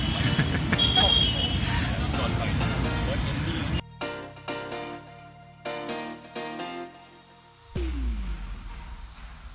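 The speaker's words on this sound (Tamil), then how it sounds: "பின்னாடி எவ்வளோ டிராஃபிக் பாருங்கள்" A few seconds of busy road traffic, vehicles rumbling past with a murmur of voices, then the noise cuts out to a quieter passage of separate tones.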